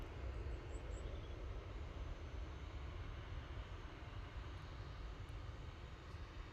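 A small Loganair airliner passes at Manchester Airport, its engines giving a steady, full rumbling roar with a low-heavy wash that stays even, fairly close, and alone with no talk.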